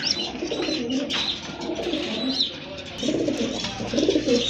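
Pigeons of the Bagha breed, kept as a breeding pair for sale, coo steadily in low, rolling calls that overlap throughout, with faint background chatter and bird sounds around them.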